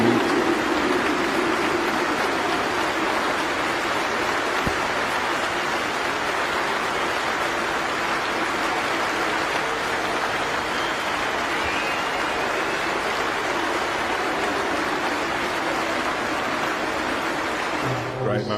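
A cricket crowd applauds Joe Root reaching 150 with steady, dense clapping and cheering that holds at an even level throughout, with a commentator talking over it.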